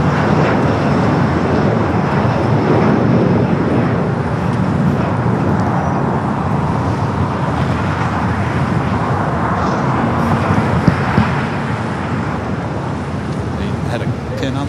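A Contour Airlines plane departing LAX for Merced, California, makes a continuous broadband engine rumble at mid distance, steady in level, with speech and airport radio chatter mixed in underneath.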